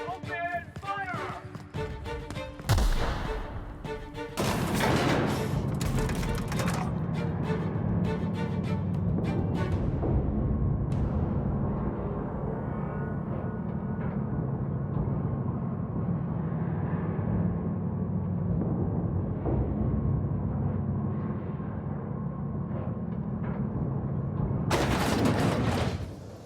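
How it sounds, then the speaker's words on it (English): Sustained gunfire in a firefight from The Outer Worlds video game, dense rapid bursts over a steady rumbling bed, with loud sharp blasts near the start and end. "Open fire!"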